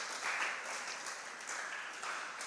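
Fairly faint, steady applause from an audience at a school math competition, a soft wash of clapping for a student team.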